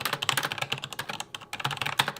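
Rapid clicking keystrokes on a computer keyboard, typed quickly in irregular bursts with a brief pause midway, close and fairly clear with no talking.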